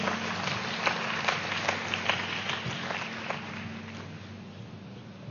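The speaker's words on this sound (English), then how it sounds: "I would love to welcome Sanjana with a round of applause" An audience at a youth forum applauds to welcome a speaker, a steady, moderately faint wash of clapping with a few sharper claps standing out, continuous for several seconds over a constant hum.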